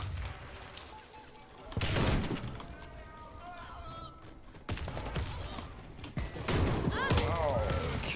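Shotgun blasts in the online shooter game Warface, several loud bursts of gunfire with a busy game background, a voice talking over parts of it.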